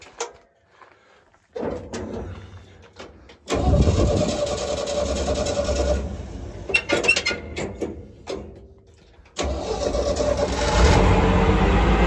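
Diesel engine of a hay bale stacker cranking and starting, then settling into a loud, steady idle with a brief drop and a second surge of revving near the end, no voices.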